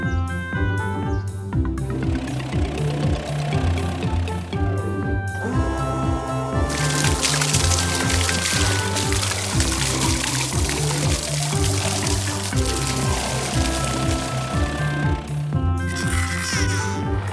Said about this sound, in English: Let's pour some blue cement in here.